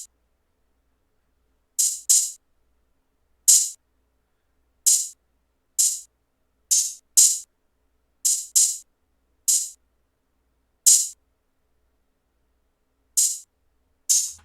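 Open hi-hat hits from an FL Studio beat ring out alone in a sparse, irregular pattern, each a bright, crisp burst with a short sizzling tail, about fifteen strikes, some doubled.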